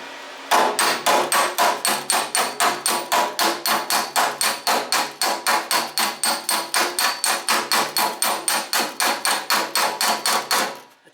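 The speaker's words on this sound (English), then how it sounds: "I'll just grab that hammer right again. So you dress it after you've finished the weld." Rapid, even hammer blows dress a fresh weld on a rusty Holden HK/HT/HG front guard, about three sharp metallic strikes a second, loud and close, continuing for over ten seconds without talk.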